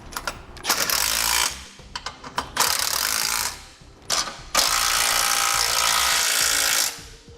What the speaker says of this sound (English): we can begin the process of tightening it down